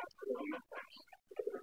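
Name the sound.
Sirazi pigeon cooing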